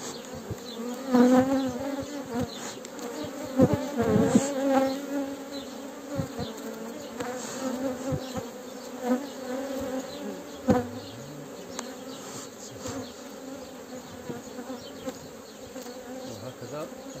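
Honeybees buzz steadily at an open hive at the peak of activity, their frames full of brood, a dense close hum with individual bees droning past near the ear.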